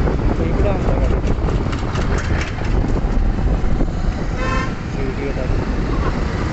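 Vehicle horns honk from behind in road traffic, several bright toots, one held longer near the end, over loud, steady road and engine noise with voices talking nearby.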